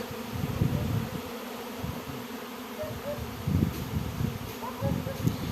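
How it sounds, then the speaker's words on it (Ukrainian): A swarm of honeybees flies into a hive already holding a shaken-in swarm, a dense buzzing hum running throughout with rising and falling swells, close and fairly loud outdoors. "Вилетів другий рій і лізе, просто от залазе в ту сім'ю, куди я струсив"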